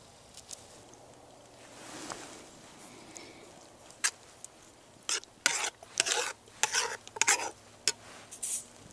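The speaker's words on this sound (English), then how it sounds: "Now I'm ready to add the beans to my frying pan, heat that up" Beans and sausage frying in a pan over an outdoor rocket stove, a low steady sizzle with scattered scraping and stirring bursts that grow busier and louder toward the end.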